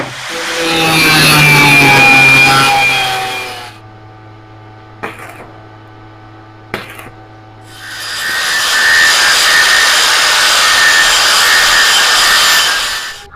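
Metal being cut for a homemade clamp, two long harsh grinding passes from an abrasive cutter at either end, with a lower motor hum and a couple of short sharp bursts between them, loud and close.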